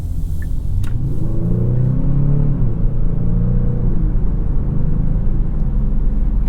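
A Genesis G70 twin-turbo 3.3-liter V6 pulls hard under acceleration, a steady loud rumbling drone from inside the cabin with rising and falling engine tones, no voices.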